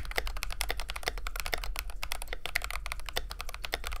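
A budget mechanical keyboard is typed on steadily in a sound test, giving rapid, close, continuous key clacks with a deep, creamy tone and no voices.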